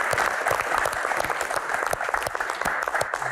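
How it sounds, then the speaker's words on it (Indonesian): Audience applause at a question-and-answer rally, a lively crowd clapping with many distinct sharp claps, steady and moderately loud for the full stretch. "tepuk tangan."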